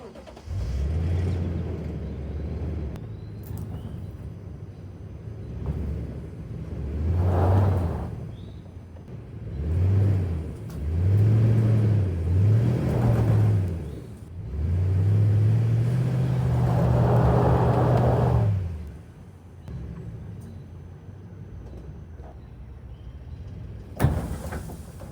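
A truck engine revs and strains while pulling an object hooked up by a strap on a farm, rising in several loud surges with pauses between them, then dropping to quiet idle.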